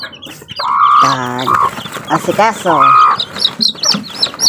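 Three-day-old chicks peep and cluck loudly and close by at feeding time, a busy overlapping chorus of chirps, with a voice speaking briefly among them.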